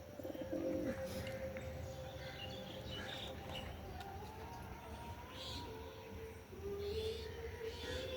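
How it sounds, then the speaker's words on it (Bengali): A male pigeon coos over and over while other pigeons bathe on a cold day, its calls steady and fairly near amid faint background bird chirps and ambient noise. "আমাদের হুমার নটটা দেখো ডাকাডাকি করেই চলেছে"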